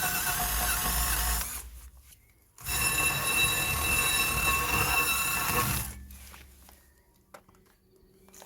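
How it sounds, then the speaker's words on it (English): A powered wire brush scrubs rust off a seized brake caliper, a close, steady whirring grind in two long bursts separated by a brief pause, then tapering off, with no talking. "So you can use a wire brush."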